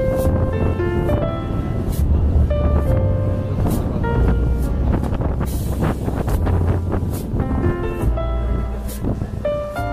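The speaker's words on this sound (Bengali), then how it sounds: "আজকে তো বৃষ্টির দিন, প্রচন্ড বাতাস" Strong wind on a rainy day at Hong Kong harbour roars steadily into the microphone throughout, with tonal whistling and humming layered over the gusts.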